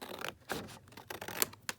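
Scissors cut through collage board with a few close, rasping snips and scrapes in an uneven rhythm, with no speech.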